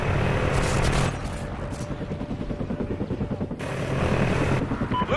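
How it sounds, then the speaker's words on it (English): A helicopter in Call of Duty: Ghosts flying overhead, a loud, steady rhythmic rotor chop thudding throughout with game noise around it. "I hate choppers. Like, why are they so loud?"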